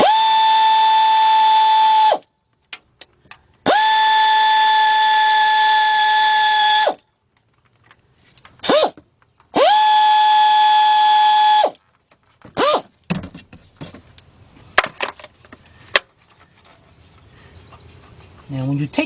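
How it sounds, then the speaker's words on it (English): A pneumatic air ratchet fitted with a 13mm deep socket spins off bolts on a plate during A/C compressor work on a 2006 Chevy Silverado C1500, in three loud whirring bursts of about two to three seconds each, followed by clinks and handling noises. "So I'm using a 13mm deep socket in my air ratchet."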